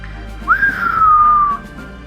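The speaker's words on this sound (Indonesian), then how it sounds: "Wiro Sableng keluarkan siulam." A single clear whistle, a short rising note that slides into a long, slowly falling tone, close and loud, with nothing else around it.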